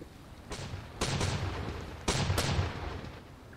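Pirate ship cannons fire in a naval video game battle between a galleon and schooners, several heavy booming blasts arriving in quick bursts with rumbling decay, close and loud.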